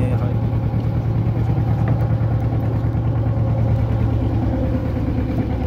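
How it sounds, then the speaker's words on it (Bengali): A boat's engine chugging steadily as it comes in along a river near Tushkhali, a loud, continuous low drone close by with people talking over it. "আর একটা নৌকা ঢুকছে দেখুন এখানে।"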